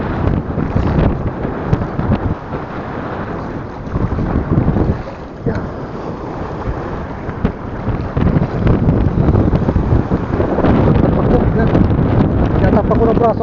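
Steady wind gusts roar across the microphone near open water while fishing, buffeting continuously with rising and falling intensity.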